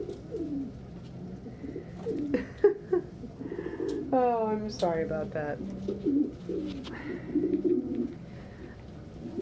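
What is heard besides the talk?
pigeons cooing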